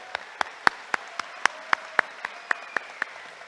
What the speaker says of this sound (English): I just want another round of applause